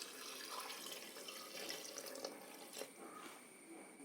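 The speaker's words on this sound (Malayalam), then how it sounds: "കുറച്ചുകൂടെ വെള്ളം ഒഴിച്ചു കൊടുക്കുക." Water is poured into a cooking pot holding large pieces of jackfruit for jackfruit rice, a faint, steady splashing trickle that runs for a few seconds with no voices.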